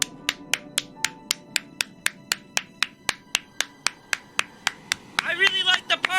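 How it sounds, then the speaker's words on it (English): Hands clap in a steady, evenly spaced rhythm, about twenty close, crisp claps, before a voice starts talking near the end. "Clap for no reason."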